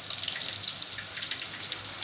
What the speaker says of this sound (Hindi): इसके साथ ही हम इसमें 1 कप पानी ऐड करेंगे